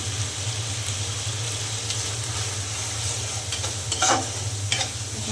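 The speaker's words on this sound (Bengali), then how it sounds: "মশলা খুব ভালো করে আমি কষিয়ে নেব" Spices sautéed in a pan for a cauliflower and egg curry with green chillies and chilli powder, giving a steady close sizzle under a constant low hum, with a few louder stirring scrapes near the end.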